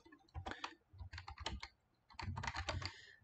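Close typing on a computer keyboard, in two quick bursts of clicky keystrokes separated by a short pause, with no talking.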